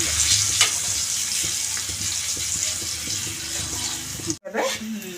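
Ingredients frying in hot oil while being stirred for a gongura dried-prawn curry, a close, steady sizzle with scraping stirs, broken by a brief pause near the end.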